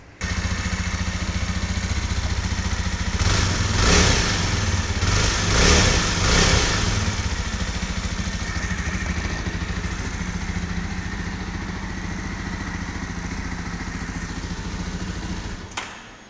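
A 2024 Jawa Perak dual-tone bobber motorcycle engine runs close by, its exhaust note throbbing with a few revs early on before settling into a steady idle, loud and continuous without speech.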